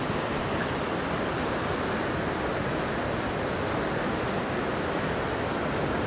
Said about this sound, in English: I can hear the water pounding behind this section of ravine.